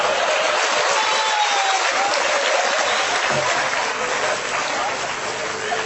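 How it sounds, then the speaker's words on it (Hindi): An audience at a live poetry performance claps loudly and continuously, a dense wash of applause that fills the whole stretch and tapers slightly near the end. "ताली बजाओ"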